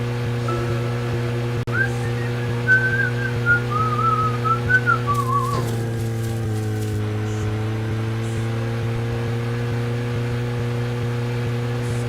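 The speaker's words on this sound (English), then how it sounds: "I like that I'm whistling while I'm crashing." A game character whistles a wavering tune from a car in Deadly Premonition, the melody riding over a steady engine hum before a crash-like burst and rumble near the midpoint, then the engine drones on alone.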